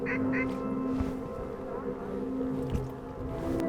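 Ducks quacking during a duck hunt on open water, a few short calls near the start over a steady low hum, then faint and scattered under the background noise.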